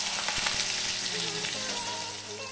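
Diced potatoes drop into hot oil with fried whole spices, a loud, close, continuous sizzle that softens slightly toward the end.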